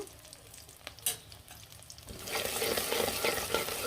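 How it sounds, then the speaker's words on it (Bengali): Chopped onions dropped into hot mustard oil, quiet clatter first, then a sudden loud sizzle that flares up and keeps crackling steadily, close by with no talking. "সরষের তেল দিয়ে রান্না করব, পেঁয়াজ কুচি কুচি করে দিয়ে দিলাম"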